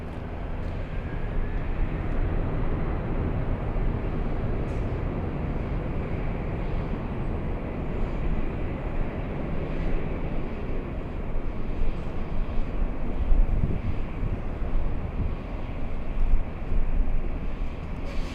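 A Delta heavy airliner takes off from runway 24 left at Los Angeles International Airport, a broad, steady jet engine roar that holds loud and continuous, with wind buffeting the microphone.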